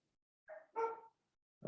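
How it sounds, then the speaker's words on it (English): A dog at home gives two short barks, a quick yip followed by a fuller bark, faint and somewhat distant, with silence around them and another sound starting at the very end. "my dog is barking"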